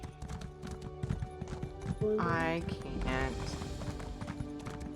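Horse hooves in World of Warcraft clip-clop in a steady rhythm close by, with a brief whinny partway through and people talking over them.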